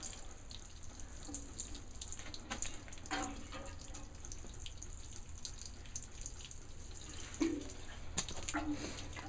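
A soft, steady spray of water patters continuously at a distance as tomato plants are watered, with faint scattered clinks and rustles.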